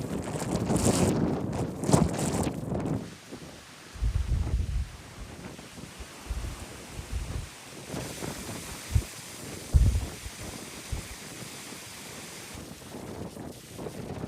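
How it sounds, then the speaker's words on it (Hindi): Strong gusts of wind buffet a rooftop in uneven, loud surges that pound the microphone with low roaring bursts, easing and rising again over several seconds. "और अभी इस बीच में इतना तेज हवा बह रहा है"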